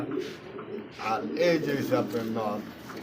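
A blue female Rajshahi Giribaz pigeon coos softly and low nearby, its murmuring partly covered by a person talking over it.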